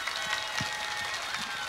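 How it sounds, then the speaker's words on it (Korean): Brief, diffuse wash of crowd clapping from an audience at the KBS National Singing Contest in Gurye, South Jeolla, welcoming the next contestant, steady and fairly soft throughout. "다음 분은 어떤 분일까요? 박수 주시기 바랍니다"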